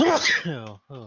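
A single sharp sneeze bursts out at close range, followed by a brief spoken exclamation.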